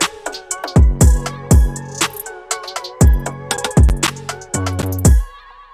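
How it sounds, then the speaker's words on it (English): Organ chords sit inside a trap beat over punchy booming 808 kicks and crisp hi-hats. The kicks land in an uneven, syncopated pattern and the whole mix is loud, with no voice. "Now the organ sounds like this."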